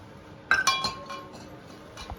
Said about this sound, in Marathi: आता तवा ठेवलेला आहे